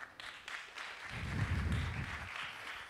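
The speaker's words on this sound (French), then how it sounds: "Je vous propose de l'accueillir avec quelques applaudissements." Audience applause at a corporate business event, a broad steady wash of clapping from a room full of people that swells slightly in the middle, with a low rumble underneath.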